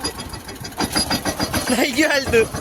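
Farm tractor in an Indian village cranking and catching, a chugging, pulsing engine rhythm that settles into a rough idle, close and loud, with a voice speaking briefly over it.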